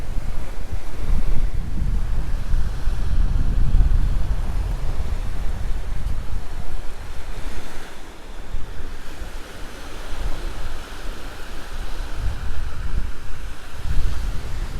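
Sea waves roll and break steadily on Alcudia beach in Mallorca, a loud, continuous surf wash with heavy wind buffeting the microphone throughout.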